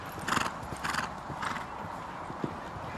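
A show-jumping mare by Locarno at the Allington International CSI2* event gives several close, loud snorting whinnies in quick succession, followed by a softer one and light hoof clops.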